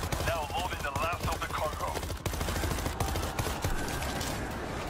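Gunfire in the zombie shooter World War Z, rapid bursts of automatic fire mixed with game sounds and music, with a player talking over it.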